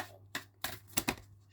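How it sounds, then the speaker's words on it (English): Trading cards for a Pokémon card game are shuffled back into a deck, giving a few quick, crisp riffling bursts close by in a quiet room. "the rest of them get shuffled back into my deck"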